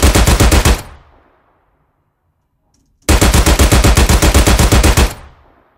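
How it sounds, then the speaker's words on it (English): Vickers machine gun firing in two long, dense bursts of rapid, even shots, loud and close, with a short decaying tail after each and a silent gap between them. "And here is the Vickers gun."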